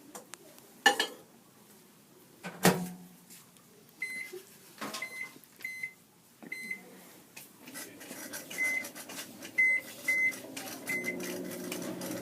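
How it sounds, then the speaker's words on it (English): A microwave oven heats a gel solution, with a steady low hum, scattered clinks and knocks, and a run of short, high electronic beeps repeating through the second half. "we're going to place it in the microwave for 4 minutes"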